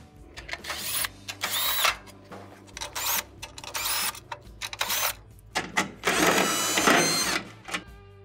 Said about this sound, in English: Remove all the screws, Phillips screws for our switches here.